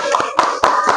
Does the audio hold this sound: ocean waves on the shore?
no